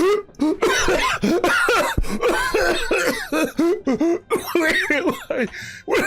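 Someone coughs repeatedly in a rapid, hacking fit, the harsh bursts coming close together and close by.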